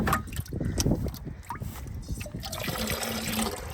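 Rainwater poured from garden barrels, a steady close splashing and gurgling with trickling water throughout, loudest in the first second.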